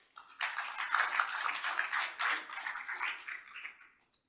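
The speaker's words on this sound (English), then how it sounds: "Please give a big round of applause for Chikako Masuda." Moderate round of applause from a conference audience at a session on AI in health, starting abruptly, rising to a dense patter of claps, then tapering off and dying away within a few seconds.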